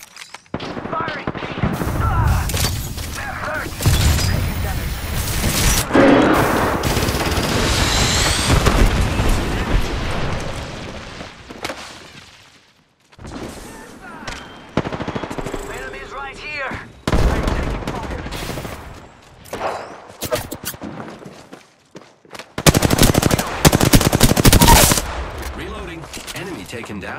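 Gunfire in the game Apex Legends comes in repeated bursts of rapid shots with booming impacts, separated by short quiet gaps. The fire is loud and close and is mixed with game sounds.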